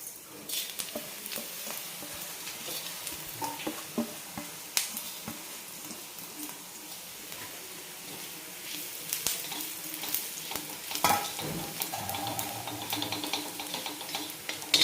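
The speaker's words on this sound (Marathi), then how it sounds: "याच्यामध्ये आपल्याला आता टाकून घ्यायचे धने आणि काळा फूल टाकून घ्यायचे" Coriander seeds and black stone flower fry in oil, a quiet crackling sizzle with scattered tiny pops and occasional utensil clicks over about fifteen seconds.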